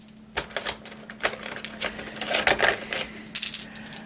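Plastic game dice from a HeroQuest: First Light box clatter and tick in a quick, irregular run of small hard clicks, close up, with no talking.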